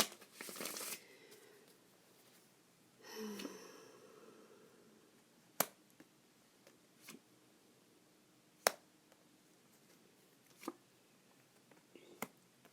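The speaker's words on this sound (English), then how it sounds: "It's very time consuming to shuffle." Tarot cards being shuffled by hand, brief riffles and sharp snapping clicks scattered across a quiet room, close and fairly soft, with a few longer rustling bursts.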